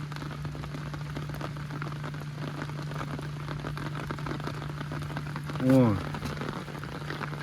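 Heavy rain pours in a steady, dense hiss throughout, with a low constant hum beneath it and a brief spoken exclamation near the end.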